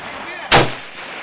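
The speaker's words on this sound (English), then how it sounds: "This is more target shooting." A single loud, sharp gunshot from a Hungarian AMD-65 rifle during outdoor target shooting, cracking suddenly and decaying quickly, with a faint background before it.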